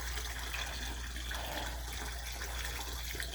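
Water being poured out for drinking, a continuous running splash with a low hum underneath, fairly quiet and steady without talk.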